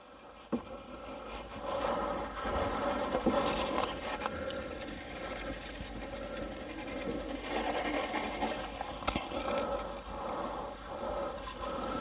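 A pressure washer sprays soap over a muddy Polaris RZR XC, giving a steady hissing, rushing spray close by that continues for the whole stretch with small shifts in tone.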